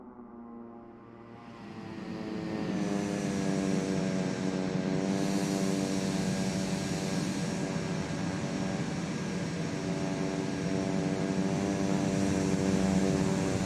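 A single-engine Kodiak turboprop in Microsoft Flight Simulator idles at Burlington Airport, a steady droning hum with a sustained whine that swells after the first couple of seconds and then holds, loud and constant, with no talk over it.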